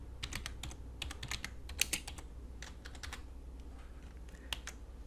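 Quick, irregular bursts of keystrokes on a computer keyboard as a short paragraph is typed into Photoshop's text tool, close and clear with brief pauses between runs.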